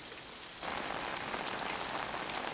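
Timefall rain in a Death Stranding cutscene begins abruptly after a quiet moment, settling into a steady, dense hiss of rain pattering on surfaces, close and even, with no voices.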